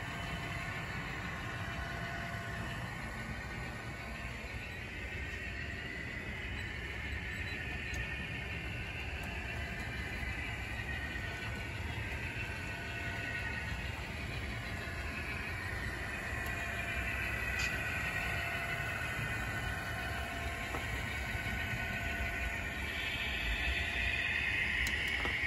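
A small model train, an F7 NYC locomotive, runs continuously with a steady mechanical whir and hum, a constant drone at moderate volume throughout.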